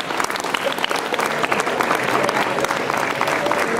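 An audience at a grape fair in Novelda, Spain, applauds a contest winner, giving a close, steady round of clapping with no voices over it.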